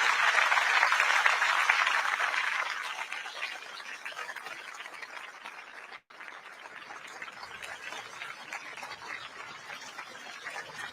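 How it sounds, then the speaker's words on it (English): An audience at a Singapore swearing-in ceremony gives a round of applause as outgoing Prime Minister Lee Hsien Loong arrives on the lawn, steady clapping that is loud at first, then eases and continues at a lower level. "arriving to a round of applause from the audience"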